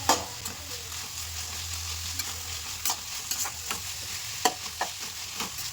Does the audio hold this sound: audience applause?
no